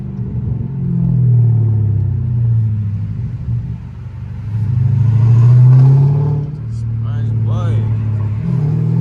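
A straight-piped widebody Scat Pack at wide open throttle gives a loud, deep exhaust drone that swells, dips and swells again from inside the car, with voices talking over it.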